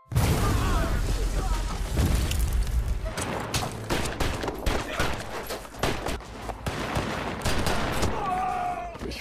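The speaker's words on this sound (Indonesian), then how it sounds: "Dan baku tembak pun dimulai." Gunfight from the 2015 action film The Hard Way, with repeated sharp gunshots and bursts of fire cracking over a dense, loud mix that stays busy throughout. Voices talk over the shooting, and a rising tone sounds near the end.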